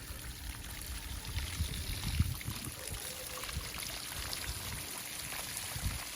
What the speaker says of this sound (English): So you can see how the waterfall's coming out.